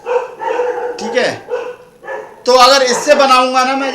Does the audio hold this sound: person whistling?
no